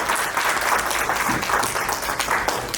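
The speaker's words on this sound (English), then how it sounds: "round of applause for all the panel here tonight" An audience at a tech seminar applauds the panel, a steady, full round of clapping that continues throughout.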